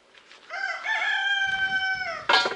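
A rooster crows once, a long loud drawn-out call, followed by a brief burst of another crow at the end.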